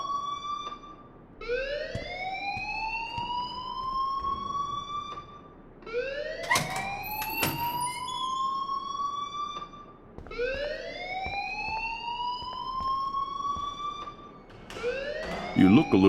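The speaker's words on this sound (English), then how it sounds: "please turn off that alarm since that's your job" A fire alarm in the video game Life is Strange wails in rising sweeps, repeating about every four seconds, loud and close, with faint background sounds between cycles.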